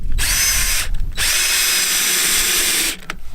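A power drill drives a screw through plywood into a foam-cored platform rim, one loud sustained whir that briefly pauses near the start, then runs steadily for about two seconds before stopping.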